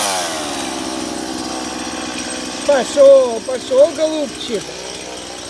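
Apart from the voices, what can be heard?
faulty borrowed chainsaw running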